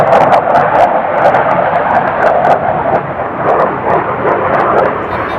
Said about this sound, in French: il y a les avions qui passent, on va les laisser passer